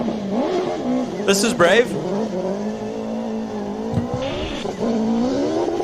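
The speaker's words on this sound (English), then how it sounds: "Devin Robertson in a Hayabusa-powered Radical." A Hayabusa-powered Radical race car at a hillclimb revs hard with a brief tire squeal, its engine drone holding steady and rising, while a commentator talks over it.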